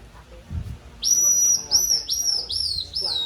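A high bamboo whistle imitates bird calls, sounding a series of short descending chirps in quick succession after a brief soft rustle.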